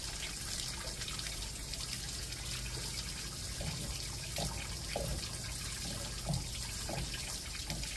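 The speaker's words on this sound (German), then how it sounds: "Mal Grauwasser ablassen." Grey water from dishwashing drains out of a camper van in a steady, fairly loud outdoor gush and trickle, with a few faint knocks and drips over the flow.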